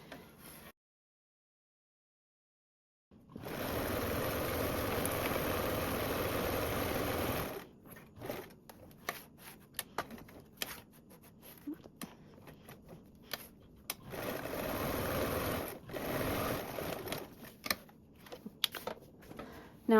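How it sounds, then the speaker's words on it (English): A sewing machine stitches across the bottom seam of a tote bag, whirring steadily in a couple of sustained runs with quieter clicks and handling sounds between them, close and without talk. "we're going to go ahead and sew across our bottom with a 3/8 seam allowance"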